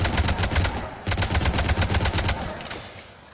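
Avenger assault rifle fired from the hip in Mass Effect 3, loud rapid automatic bursts: one sustained volley, a brief break, then a second long burst that tapers off at the end.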